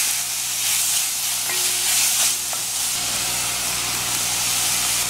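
Saltfish, tomatoes and sweet pepper frying in a pan for a Trinidadian buljol, a steady close sizzle and hiss with a few light stirring scrapes.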